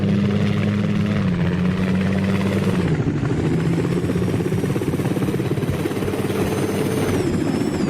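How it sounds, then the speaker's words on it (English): Helicopter sound effect from a Unity 2D physics-based helicopter game, a steady loud rotor drone with a dense low throb that shifts pitch slightly as the craft moves, continuous with no talk. "a realistic helicopter sound effect"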